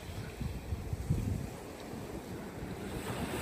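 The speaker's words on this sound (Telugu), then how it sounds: "ఆ అలలు సౌండ్ చూడండి, ఒకసారి వినండి ఎంత బాగా వస్తున్నాయో" Sea waves wash onto Kakinada beach at night as a continuous low rushing roar, mixed with rumbling wind buffeting the microphone; no one speaks.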